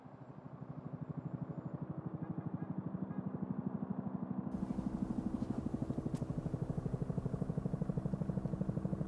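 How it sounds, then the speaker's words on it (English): Helicopter rotor added as an edited sound effect, a steady rapid chopping pulse that grows louder and fuller partway through and stays close, with no talk. "Let's add a helicopter and see what that does for the location of the film."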